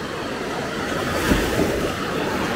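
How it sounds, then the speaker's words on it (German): Ocean waves roll and crash in a steady, loud wash of large surf on the Gran Canaria coast, with wind rushing across the microphone and no voices. "seht euch an, was für schöne Wellen da wieder sind."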